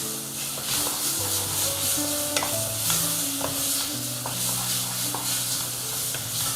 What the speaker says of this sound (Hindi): हल्दी, पिसा हुआ गरम मसाला, अच्छी तरह मिक्स करती हूँ।